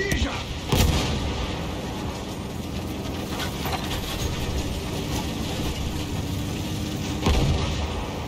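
Artillery shelling on a muddy World War I battlefield in the Battlefield 1 video game, with a tank stuck in mud: heavy booms near the start and end over a constant rumbling din of engine and combat noise.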